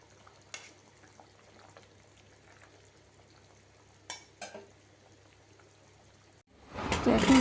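Fish curry (jhol) cooking in a home kitchen: a few faint clinks and stirring scrapes over quiet background, then a loud burst of sizzling frying near the end, with no talk.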